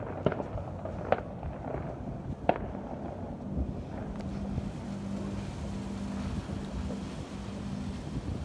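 New Year fireworks in Kuwait on January 1, 2020 pop and crackle at a distance, with a few sharper bangs early on over a constant rumble of wind and engine-like background noise.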